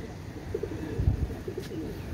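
Pakistani Royal Teddy pigeons cooing softly nearby, a few low throaty coos in a short burst over quiet background.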